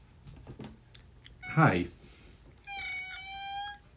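A house cat meows near the microphone, a rising harmonic cry that follows a brief louder noise, with a faint tapping sound earlier in the clip.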